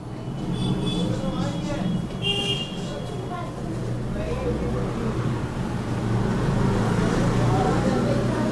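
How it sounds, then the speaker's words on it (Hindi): Vehicles pass on a road beside a house, a low, continuous traffic rumble that swells near the end, mixed with indoor voices and a faint electrical hum. "अभी आप लोग को गाड़ियों की आवाज़ भी सुनाई देगी"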